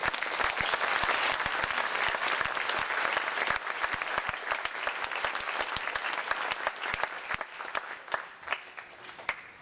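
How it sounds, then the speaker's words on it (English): Sustained applause from a sizable graduation ceremony crowd, dense clapping that stays loud for the first few seconds and then thins slightly while continuing to the end. "Please help me in giving them all a round of applause."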